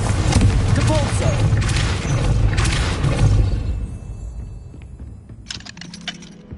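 A Depulso spell cast in Hogwarts Legacy lands as a loud booming impact with breaking, scattering debris that rattles on for several seconds, then fades to quieter clinks and scattered ticks near the end.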